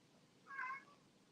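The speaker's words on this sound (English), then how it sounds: "can you hear him? Mm-hmm. My cat." A house cat gives a single short meow, faint and fairly distant, over a low steady background hum.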